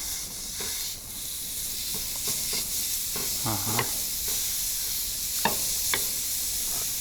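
Minced meat frying in a hot pan on a stove inside a tent during an overnight winter fishing trip: steady loud sizzle and hiss with occasional stirring scrapes, close up, and a brief word spoken once.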